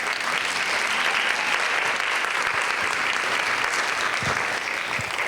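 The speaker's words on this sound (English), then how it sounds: "Let's give them a round of applause." Applause from the audience at a graduation ceremony, a steady, even wash of many hands clapping that continues for over five seconds at moderate distance.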